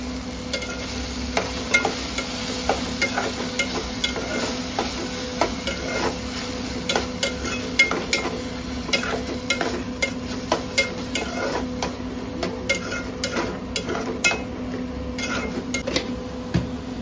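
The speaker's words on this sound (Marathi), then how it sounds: "आणि त्या मसाल्याला सुद्धा त्यामध्ये मिक्स करायचं आहे चांगला" Masala is stirred into a homemade crab curry, and a spoon scrapes and clinks in repeated strokes against the pan over a faint steady sizzle and hum, with no one talking.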